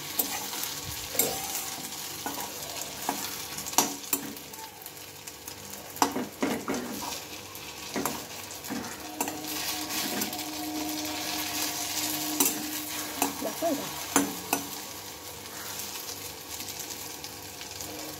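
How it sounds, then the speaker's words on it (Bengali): Pieces of bottle gourd fry in a pan while a spatula scrapes and flips them, a continuous close sizzle broken by repeated sharp scrapes and taps. "সবগুলো ভেজে নিচ্ছি"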